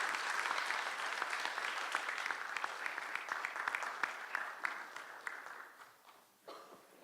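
Audience applause at a finalists' presentation event, a dense patter of many hands clapping that holds steady, then thins and fades near the end with a brief final burst.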